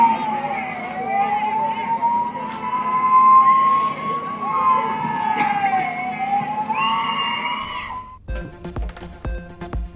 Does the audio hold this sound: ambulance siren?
yes